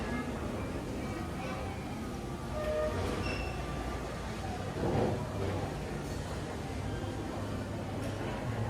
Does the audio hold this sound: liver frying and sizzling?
no